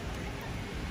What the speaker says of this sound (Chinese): 大雨咗好多